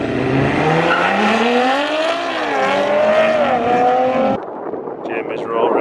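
A tuned Audi launches hard in a roll race, its engine note climbing in loud, sweeping harmonics for several seconds before cutting off abruptly into quieter background noise.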